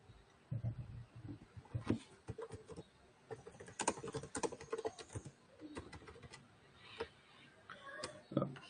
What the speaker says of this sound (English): they're typing on the chat.